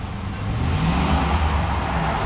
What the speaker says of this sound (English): Sounds good and strong, good V8 engine.